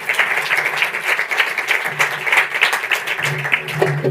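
Audience applause for a speaker at the end of a lightning talk at PyCon PT 24, a Python conference, as steady, dense clapping from a crowd filling the whole stretch with no break.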